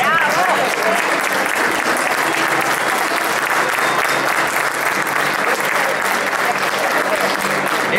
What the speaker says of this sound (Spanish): Ese mismo aplauso